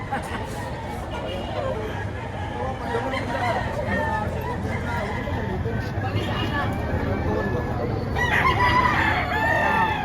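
Chickens cluck and a rooster crows, with more crowing near the end, over a busy background of people talking nearby.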